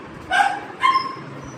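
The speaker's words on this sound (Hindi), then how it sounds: "देखिए कुत्ता बहुत भौंक रहा है हमारा" A dog gives two sharp, high yipping barks in quick succession, close and loud, over a quiet background.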